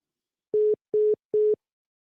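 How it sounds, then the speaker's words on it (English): Phone busy signal after a caller hangs up: three short, identical steady tones evenly spaced, loud and clean against silence. "Someone called, no ID, and hung the phone up."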